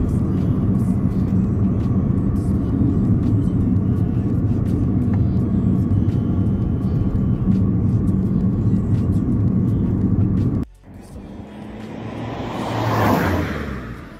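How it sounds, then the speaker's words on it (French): A Mini car's engine hums and rumbles steadily, then cuts abruptly, followed by a rising whooshing whine like a jet spooling. "quand tu démarres la Mini ou quand tu la coupes, on dirait un moteur d'avion."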